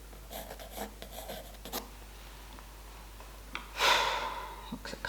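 Pencil or brush scratching across paper while sketching a small figure with a backpack for a watercolor French street scene, in short soft strokes with pauses and a louder scrape near the end.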